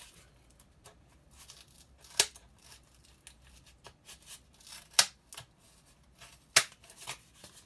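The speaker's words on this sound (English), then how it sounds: "So I prefer to use scissors." Scissors snip through paper in irregular, close cuts with crisp rustling between them and a few sharp louder snips.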